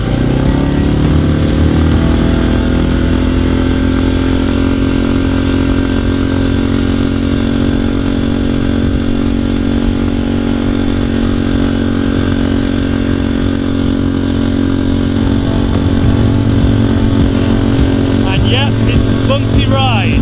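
Tohatsu 6HP outboard motor drones loud and steady as it pushes an inflatable boat on the River Mersey, a constant buzzing engine tone with wind and water rush and no pauses.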